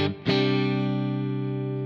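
Clean electric guitar tone from an effects unit preset: a single strummed chord that rings out steadily and slowly decays, with a brief dip and re-attack at the start, and no talk.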